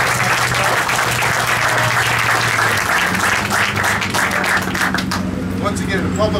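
Sustained loud audience applause at a Walmart groundbreaking ceremony, dense clapping filling the whole stretch with crowd murmur beneath, steady from start to end.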